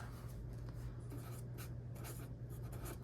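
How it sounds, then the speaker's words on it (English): Steady scratching of a pen writing numbers on paper in a debt binder, close and continuous over a low hum, with no talk. "let's write that down"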